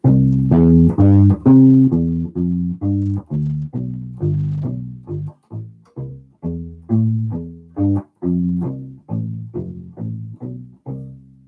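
A U-Bass plays a steady waltz bass line in a lilting three-beat pattern, notes plucked one after another, clear and alone.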